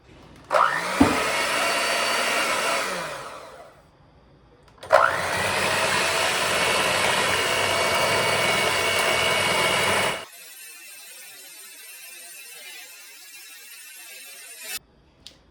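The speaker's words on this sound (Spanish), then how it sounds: "vamos a levantar nuestras claras a punto de nieve" An electric mixer whipping egg whites to stiff peaks for simple cookies, a steady whirring drone in two long bursts separated by a short pause, then quieter background noise.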